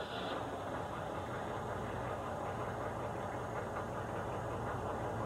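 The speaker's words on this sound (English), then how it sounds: "Now start the vehicle engine and turn on the lights and accessories." A HMMWV military vehicle engine runs steadily at idle, a dense continuous rumble with a slight knocking texture, close and loud throughout with no talk.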